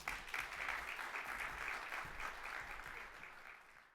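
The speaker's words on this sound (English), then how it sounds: "So give them a round of applause." Steady applause from an audience, a dense wash of clapping that holds throughout and tapers slightly at the end.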